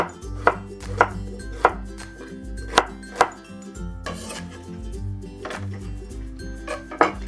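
A knife chops onion and shallot into big chunks on a board, giving sharp, evenly spaced thuds that start in a steady rhythm, pause briefly, then resume, with soft music underneath.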